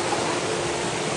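River water flowing steadily on a rural provincial route, a dense broadband rushing wash that stays constant and fairly close throughout, with no voices.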